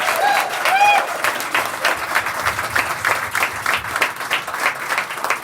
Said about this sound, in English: So give yourself applause.